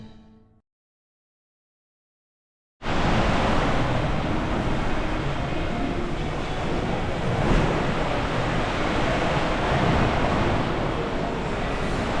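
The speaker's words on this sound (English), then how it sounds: "It's a little choppy seas right now too." Choppy sea waves wash and roar against a rocking ship, a broad continuous rush with wind buffeting the microphone, starting abruptly after a brief silence and sustaining loudly throughout.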